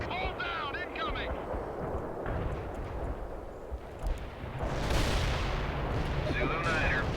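Incoming artillery fire in the strategy game World in Conflict, a continuous roar of blasts and rumbling gunfire that swells louder toward the end, with brief radio-style voices over the din.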